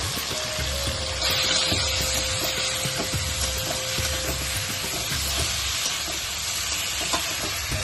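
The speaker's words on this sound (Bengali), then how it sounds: "সব চিংড়ি মাছগুলো একসাথে দিয়ে ভেজে নিই।" Whole shrimp fried all together in a pan for a doi chingri bhapa: a steady, dense sizzle and crackle of hot oil runs throughout at an even level, with a faint low hum beneath and no talking.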